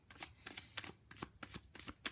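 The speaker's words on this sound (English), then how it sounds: "let me shuffle the cards" A deck of tarot cards is shuffled by hand in quick, rhythmic bursts of riffling and slapping, close and fairly quiet, with no voices.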